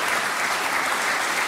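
Studio audience at a television talk show applauds steadily, a dense, even wash of many hands clapping close and loud with no talk.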